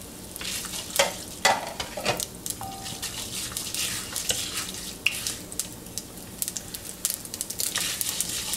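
Black mustard seeds and dals sizzle and crackle in hot oil for a cabbage curry. The frying is continuous and faint, with scattered pops and stirring scrapes.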